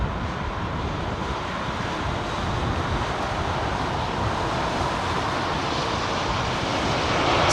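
Bulgarian Embraer jet with CF34 engines at Heathrow Airport, a broad steady roar that builds slightly louder toward the end, heard alone with some wind noise.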